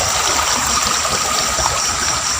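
Flowing water near the bank of a stream during electric night fishing, a loud, steady rushing trickle filling the whole moment with no pauses and no voices.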